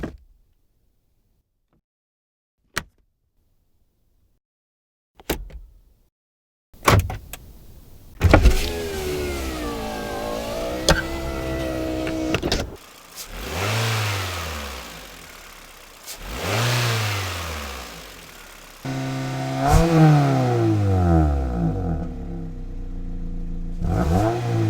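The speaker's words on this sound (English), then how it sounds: "I went out and recorded some for mine, which is the first time I had ever done any Foley recording of a vehicle" Foley-recorded car heard alone: a few sharp clicks and a door-like thump, then an engine starting and revving in rising and falling surges, idling between pulls, close and loud.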